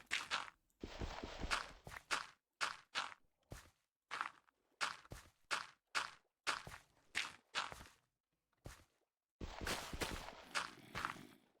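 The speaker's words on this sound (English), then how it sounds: "I was wondering where I was hearing the footsteps from." Footsteps crunch in the video game Minecraft, coming in quick rhythmic clusters of steps with short pauses between them. They are quiet and fairly close, followed by a longer final run of steps.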